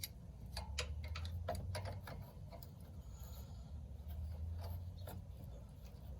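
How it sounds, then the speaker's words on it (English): A hand wrench ratchets on a Polaris RZR 800S during an oil change, giving irregular close metallic clicks and short bursts of ratcheting over a steady low background hum. "Let me loosen up this wrench a little bit."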